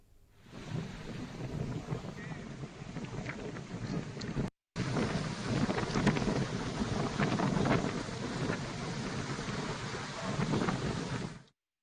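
Heavy rain pours steadily over the city of Vijayawada with deep rumbles of thunder underneath, loud and continuous, cut by one brief gap of silence.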